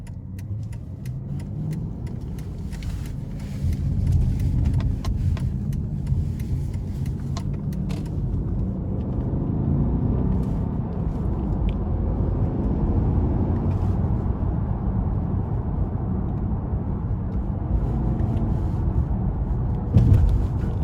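A 2007 Mercedes-Benz S550 accelerates out of a corner with the driver working the paddle shifters, its engine droning steadily and rising in pitch under continuous road and cabin noise.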